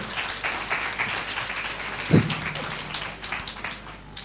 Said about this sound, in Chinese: 给 Mr. Robert 一个掌声